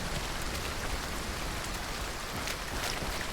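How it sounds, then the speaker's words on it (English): Steady, loud rain pours down in a video game, a dense hiss of drops on surfaces that fills the whole moment with no voices over it. "The rain is so loud I can't hear you."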